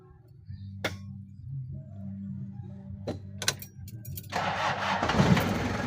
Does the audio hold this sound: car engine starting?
yes